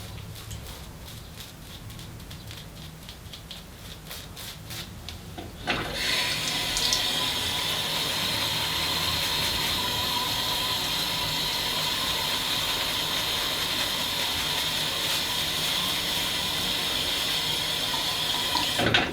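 Water from a tap starts abruptly partway through and then runs steadily and fairly loud to the end, following a quieter stretch with faint background noise.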